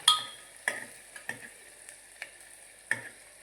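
Onions cooking in a pan for a potato and onion curry are stirred with a spoon, giving about six sharp scraping strokes at uneven intervals over a faint, steady sizzle, with no talking.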